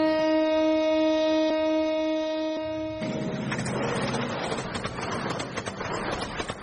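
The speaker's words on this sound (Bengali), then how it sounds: "ট্রেন থেকে নেমে দাঁড়াতেই ট্রেনটি হর্ন বাজিয়ে চলে গেল।" A cartoon-style train sound effect: a steady sustained horn tone plays for about three seconds, then gives way to a loud, dense clattering rumble of the train running on.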